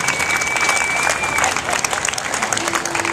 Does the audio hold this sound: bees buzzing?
no